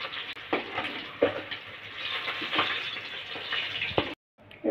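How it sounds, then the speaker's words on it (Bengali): Katla fish fries in hot mustard oil with a close, crackling sizzle, bursts of popping spatter over a steady hiss, then a brief silence before the frying resumes. "একইভাবে এপিট ওপিট করে বাকি মাছগুলো আমি এপিট ওপিট করে লাল লাল করে ভেজে নিয়েছি।"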